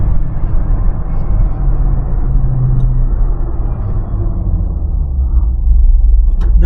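A 1967 Chevrolet K10 4x4 truck with a straight-cut-gear Muncie transmission running close by, giving a loud, steady low rumble and drone that swells slightly toward the end.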